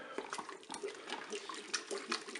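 Flour diluted in water poured into a Cookeo pot, a faint, continuous liquid trickle and splashing nearby, with no talk.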